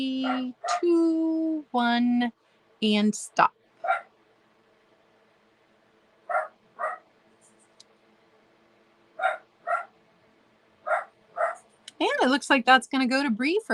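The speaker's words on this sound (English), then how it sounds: "I'm so sorry about the barking dogs" Dogs barking indoors during a small sale, a scattering of separate sharp barks and yips spread through the moment, a few of them at a regular pace, with a person talking over them at the start and end.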